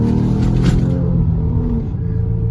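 From inside the cabin, a Ford Explorer EcoBoost with its muffler deleted accelerates hard, producing a loud, deep engine rumble that rises and then settles as the throttle eases.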